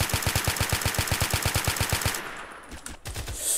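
Rapid automatic gunfire in a GTA multiplayer match, a loud, steady burst of evenly spaced shots for about two seconds, then a brief lull before more scattered shots.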